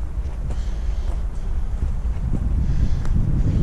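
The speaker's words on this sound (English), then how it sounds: "The wind's not really going the right way" Strong gusty wind of about 20 mph blows during tree felling, a steady low rumble buffeting the microphone throughout with no clear voices.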